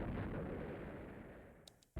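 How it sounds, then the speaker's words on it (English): Explosions in the video game Otogirisou sound as a dense, heavy rumbling roar that fades gradually over two seconds, ending with a couple of brief crackling pops and a sudden thump. "Explosions started all around us."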